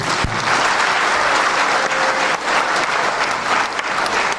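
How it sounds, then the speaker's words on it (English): A packed Catholic University auditorium audience gives a Kenyan politician a sustained round of applause, dense, loud and continuous, with no speech over it. "Round of applause for Raila Amolo Odinga."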